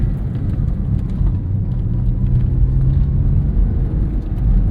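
A Porsche 996-generation 911 with a 3.4-liter flat-six engine producing 298 horsepower drives along, its engine giving a steady, continuous low drone that stays loud throughout with no talking.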